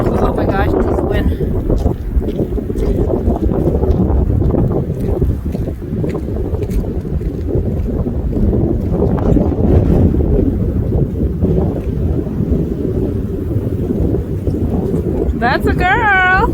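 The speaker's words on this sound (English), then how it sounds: "Oh my gosh, this is the wind." Strong winter wind in a snowy, icy Maryland driveway roars and buffets the microphone in a steady, loud rush for the whole stretch, with people talking over it.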